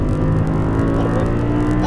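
An Audi R8 accelerates hard on the Exotics Racing track in Las Vegas, its engine roaring loud, close and sustained as the revs climb, with no talking over it.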